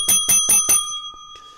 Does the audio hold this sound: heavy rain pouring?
no